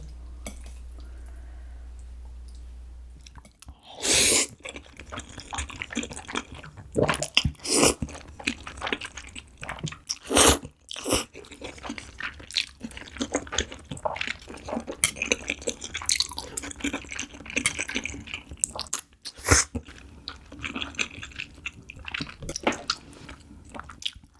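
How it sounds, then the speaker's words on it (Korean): Close, wet chewing and crunchy bites of jjajangmyeon noodles with seafood, vegetables and rice mixed into the black bean sauce, in irregular bursts and squishes with no talking. "이거밥 하나 비벼 먹을게요"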